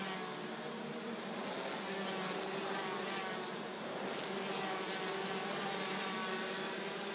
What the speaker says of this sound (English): Just hearing those engines